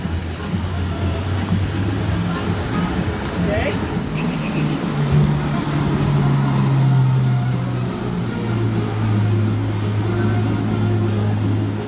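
A Porsche 911 GT3 RS 992 sports car pulls up at a Monaco hotel, its engine a low, sustained drone that swells slightly and then eases, among street noise and nearby talk.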